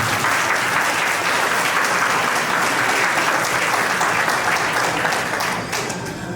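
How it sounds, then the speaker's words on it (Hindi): Audience breaks into loud sustained applause at a stage event, dense clapping that holds steady and eases off slightly at the end. "एक बार ज्योति जी के लिए तालियां तो बनती हैं।"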